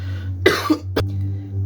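A single person coughs once, a sharp broadband burst followed by a brief second rasp, then a short throat sound, heard up close over a steady low electrical hum.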